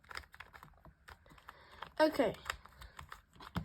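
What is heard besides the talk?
2x2x3 Rubik's cube being shuffled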